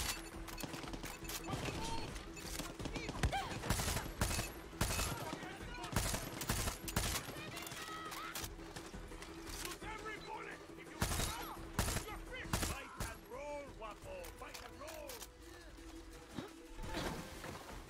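Far Cry 6 co-op campaign combat: rapid, dense bursts of gunfire crack again and again throughout, loud and close, with occasional voices underneath.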